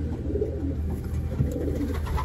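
A racing pigeon of the Kittel 120 line coos close by, with low, soft, throaty murmurs rolling continuously over about two seconds.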